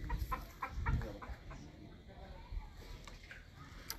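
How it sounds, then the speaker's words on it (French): A hen clucks in short bursts close by, the calls mixed in with people talking nearby. "la poule ne passe pas ici"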